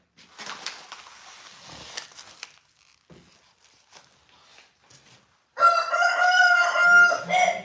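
A rooster crows loudly and close by in a workshop setting, preceded by quieter rustling and faint clucking before the full crow bursts in.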